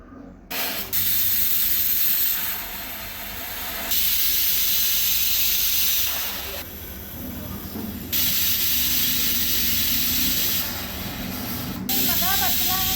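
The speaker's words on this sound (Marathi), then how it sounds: "त्यानंतर कुकरचं टोपण लावून मी त्याचे 4 शिट्ट्या आता काढून घेणार आहे।" Pressure cooker hissing steam while cooking dal, a loud, steady broadband rush with bursts that swell and ease in several long waves across the clip, alone without talk.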